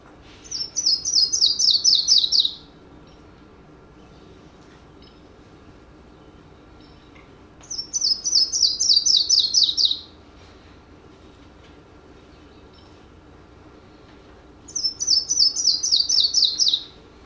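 A West Virginia forest songbird sings three bright, descending trilled phrases, each about two seconds long, separated by pauses over a faint steady background hum.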